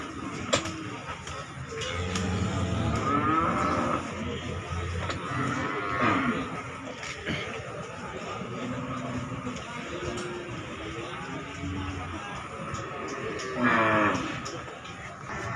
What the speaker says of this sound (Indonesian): 2 ekor sapi jumbo limusin.